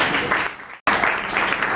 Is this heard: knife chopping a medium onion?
no